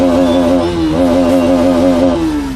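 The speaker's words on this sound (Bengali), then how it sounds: "তো গাইজ সাউন্ডটা চেক করো একবার," A Bajaj Pulsar NS200 motorcycle engine, very loud and close, hums at a steady pitch that rises and holds as it is revved, then slowly drops toward the end.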